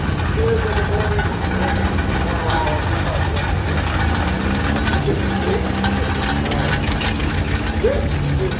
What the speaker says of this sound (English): This is the oldest operating track engine this side of the Rocky Mountains